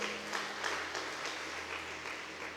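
A church congregation claps together to praise the Lord, a dense, even wash of applause held at steady loudness throughout.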